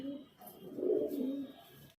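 A highflyer pigeon in a loft gives one low, drawn-out coo close by, swelling and then fading, with no voices in the clip.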